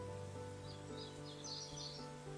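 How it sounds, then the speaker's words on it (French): Faint birdsong drifts through forest trees, with a few soft chirps and short phrases over a quiet, steady background hush. "Les chants des oiseaux se mêlent à un léger souffle de vent dans les arbres."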